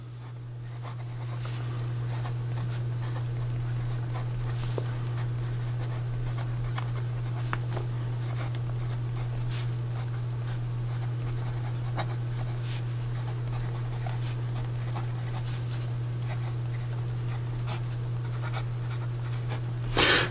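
An Online Vision calligraphy pen with a 1.4 stub nib writes on paper in close, soft, intermittent scratchy strokes over a constant low electrical hum.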